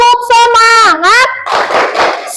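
A classroom of pupils in an Islamic religious education lesson performs the 'tepuk semangat' clapping chant: a single voice calls out first, then a short, loud burst of clapping follows.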